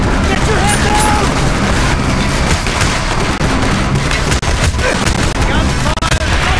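Gunfire rattles in Call of Duty: Black Ops, dense overlapping shots and bursts in a continuous loud barrage, with voices shouting over the combat.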